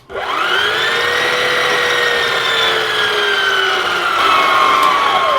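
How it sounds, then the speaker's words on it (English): Electric stand mixer kneading Norwegian bread dough, a loud steady motor whine with a slowly falling pitch, running continuously throughout. "I'm going to let the mixer mix up for about 10 minutes"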